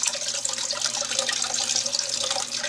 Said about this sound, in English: Just gently splash a little bit of water in there